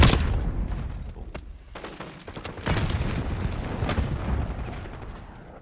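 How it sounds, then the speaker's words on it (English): A frag grenade is tossed and explodes during a Hardpoint match in Black Ops 6, with a deep boom amid ongoing gunfire and rumbling blasts, loud and dense throughout. "Tossing frag."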